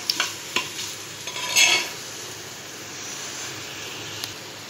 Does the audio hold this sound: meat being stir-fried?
yes